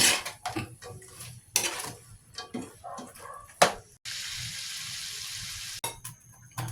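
A utensil scrapes and clinks against a pan while tofu is stirred and cooked for sizzling tofu, giving irregular metallic knocks and scrapes over a soft sizzle, close and fairly quiet.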